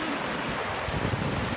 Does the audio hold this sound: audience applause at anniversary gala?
no